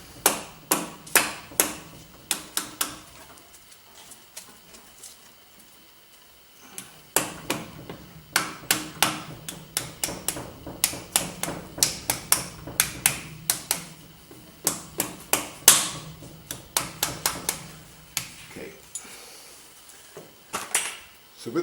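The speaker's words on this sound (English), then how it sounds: "with the rubber mallet" A rubber mallet taps a timing gear onto the crankshaft of a Rover V8 while a Cloyes three-way cam chain kit is installed, giving dozens of sharp, close knocks in quick bursts with short pauses between.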